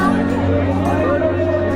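Dense crowd hubbub at a busy market during the Kullu Dussehra festival, steady murmur of many overlapping voices close around, with no distinct words standing out.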